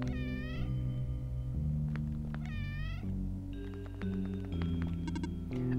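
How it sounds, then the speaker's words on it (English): Cats meow in the video game One Shot, two drawn-out, wavering meows standing out clearly over a steady droning musical background, with scattered electronic chimes and no talking. "Look at all these kitties."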